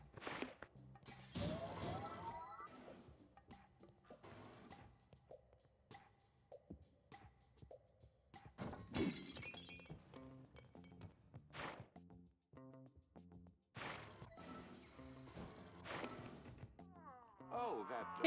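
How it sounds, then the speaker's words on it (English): Glass breaks in the puzzle game Quantum Conundrum with a sharp crash and tinkling shards partway through, among other scattered clinks and game effects while a voice talks intermittently. "Because it'll break the glass"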